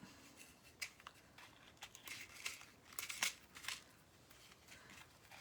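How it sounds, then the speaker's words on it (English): Scissors snip through a small piece of polyester ribbon, giving several crisp, quiet cuts and crinkles spaced irregularly across a few seconds, close up and with no talking. "I'm just going to cut a little piece"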